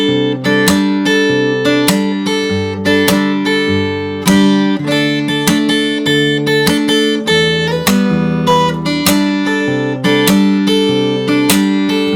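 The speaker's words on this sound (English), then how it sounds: "After that we have the second half of the verse," Fingerstyle guitar plays the second half of the verse of a song, dense plucked bass and melody notes moving steadily without pause, close and evenly loud throughout.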